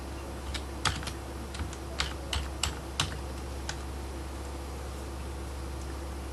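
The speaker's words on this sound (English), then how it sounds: "so I type in my username and my password" Quick bursts of keystrokes on a computer keyboard enter a username and password, a few clustered taps over a steady hum, then quiet.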